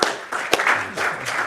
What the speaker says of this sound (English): Why don't we give her and the team a round of applause